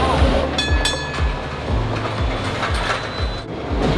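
An old double-decker Hong Kong tram rumbles along its rails with a steady clickety-clack of wheels over joints, metallic rattles and squeaks layered over a continuous low rolling drone, heard close from on board.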